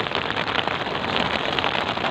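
Rain pours down during a traditional handline fishing trip near Guiuan, a dense, loud, close patter on surfaces that stays constant throughout, with no speech.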